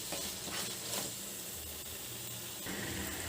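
Chopped tomatoes frying in a pan for a roti chutney, with a continuous close hissing sizzle and a few soft stirring bursts, low in level and alone without any talk.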